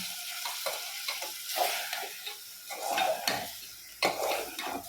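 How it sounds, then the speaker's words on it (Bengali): Chicken curry being cooked down in a pot with splashes of hot water, with metal spoon scrapes and clinks against the pot over a soft sizzle, coming in uneven bursts. "একটু একটু গরম জল দিয়ে ভালোভাবে কিছুক্ষণ কষিয়ে নিতে হবে"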